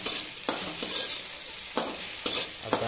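Egg bhurji stirred in a pan, with a soft steady sizzle broken by several sharp spatula scrapes and clicks in an irregular rhythm, close and moderately loud, with no voices.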